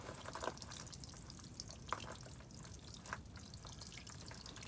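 Rainwater from rain barrels poured by hand over seed-sown soil bags, a steady soft splashing trickle with a few brief drips standing out, close by and with no talking.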